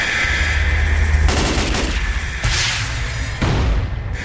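Video-game gunfire during an escape from a complex: repeated bursts of shots in loud clusters, with booming impacts in between.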